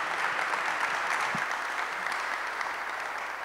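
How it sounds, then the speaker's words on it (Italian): An audience at a talk on civil economics gives a steady round of applause, a dense close clatter of clapping hands that holds for several seconds and fades slightly at the end. "Fargli un applauso a loro due, non a me, a loro sì."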